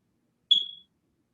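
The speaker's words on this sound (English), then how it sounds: "it makes a nice fire beeping sound" A calculator gives one short, bright electronic beep when its data key is pressed, a single clean tone of about a third of a second, close and alone with silence on either side.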